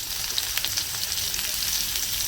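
Onion sizzles in hot oil in a wok with whole cumin seeds, a steady crackling fry with scattered sharper pops, fairly loud and close with no voices.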